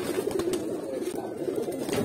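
Pigeons in a cage cooing continuously, a dense overlapping low murmur of coos from several birds, close and steady throughout.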